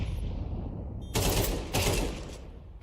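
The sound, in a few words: gunfire in a video game match, headshot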